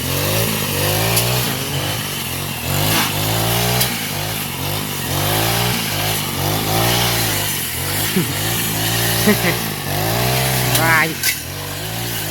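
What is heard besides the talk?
grass trimmer engine running in garden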